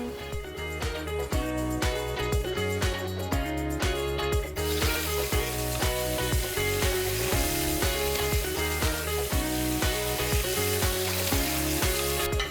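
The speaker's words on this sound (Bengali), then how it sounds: "এখন আমার চিকেনগুলো ভাজতে হবে" Pieces of Turkish-style chicken frying in hot oil, a dense, continuous sizzle that swells brighter partway through, close and steady for the whole stretch under a rhythmic, tonal background.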